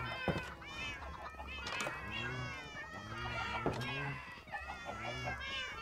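Several Minecraft cats meow repeatedly in a steady overlapping series, fairly loud and close, with game sounds in the background.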